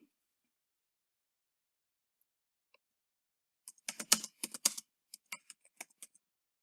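Computer keyboard typing arrives after a few seconds of near silence: a quick burst of close, crisp keystrokes, then several spaced single taps trailing off.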